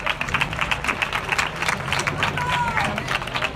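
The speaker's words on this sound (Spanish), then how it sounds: "Un aplauso para él" An audience at an autumn evening gathering with the carnival group El Pelotón Aceitunero claps in a dense, steady burst of many hands, with some crowd murmur mixed in.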